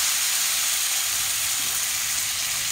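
Puris made from dough shallow-fry in a little oil in a pan, giving a steady, dense hiss and sizzle that stays even and close throughout, with no talking.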